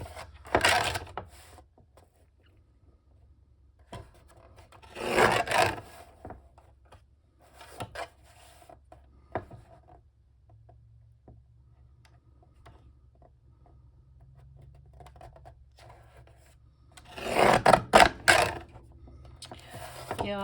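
Paper being torn or pressed along a deckle-edge tool to give it a rough, ragged edge, heard as several separate close, loud bursts of scraping and rustling with quiet gaps between them.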